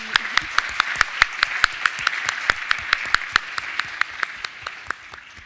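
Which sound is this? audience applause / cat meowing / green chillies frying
audience applause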